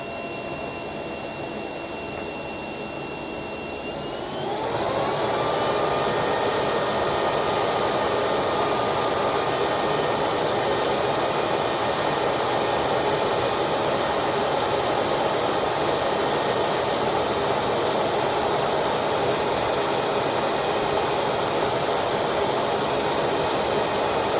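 A 2006 SEBO Airbelt K2 vacuum cleaner runs steadily, then is turned up to full power, and its airy roar rises and stays loud and constant. It is heard up close, alone, with no talk.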